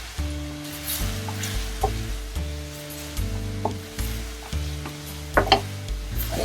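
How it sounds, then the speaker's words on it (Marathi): Spices for Irani chicken keema sauté in a hot pan, giving a steady close sizzle broken by repeated stirring scrapes and light knocks of a spoon, with a low hum running underneath the whole time. "या सगळ्या मसाल्यांचा कच्चापणा जाईपर्यंत हे परतायचं."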